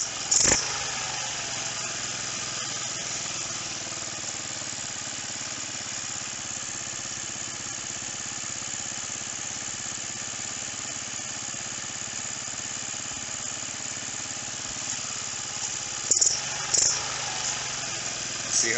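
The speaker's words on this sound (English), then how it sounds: "Hear how it's idling up." Roketa 150cc engine idling steadily and fairly quietly for a long stretch, its low running hum unbroken, with a few brief clicks and knocks near the end.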